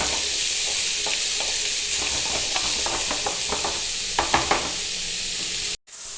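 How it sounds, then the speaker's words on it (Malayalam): Chopped cabbage and onion fry in a pan with a steady loud sizzle, while a spoon stirs through them in repeated soft scraping strokes before a brief cutoff near the end. "കേബേജും സവാളയും കൂടെ അരിഞ്ഞ് വെച്ചിട്ടുണ്ട്. നമ്മൾ ഇതിലേക്ക് ഇടുകയാണ്. എന്നിട്ട് നന്നായിട്ട് ഇളക്കി കൊടുക്കുക."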